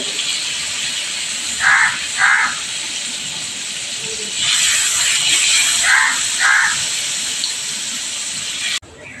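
Marinated fish tikka frying in a pan gives a steady, fairly loud sizzling hiss throughout, with a few brief brighter bursts over it and a sudden drop right at the end.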